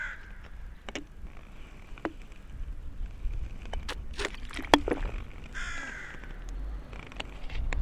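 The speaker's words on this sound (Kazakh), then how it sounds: "Қарғаның дауысы ғана естіледі" Crows caw in short, scattered calls across a quiet village, set against a low steady rumble of wind or distant background noise.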